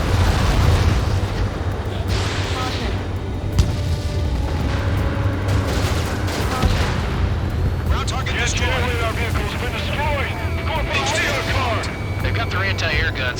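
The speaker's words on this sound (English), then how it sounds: "anti-air guns aimed right at us" Anti-air gunfire and explosions in the Ace Combat 7 flight game, a constant loud roar of rumbling blasts and flak bursts, heavily mixed with radio voices speaking over the action throughout.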